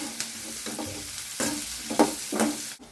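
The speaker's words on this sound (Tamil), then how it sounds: "இது கொஞ்சம் நேரம் வதங்கட்டும். கொஞ்சம் நல்லா சுருங்கி வரணும், ப்ரௌனிஷாக." Masala for pepper chicken frying in a pan as it shrinks and browns, a soft continuous sizzle with a few light spoon scrapes and stirs.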